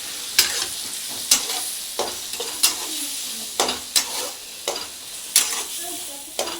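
Chopped eggplant fries in hot oil for a Bengali oil-eggplant dish, with a steady sizzle broken by regular sharp scrapes of a spatula stirring the pan, close and clear with no talking.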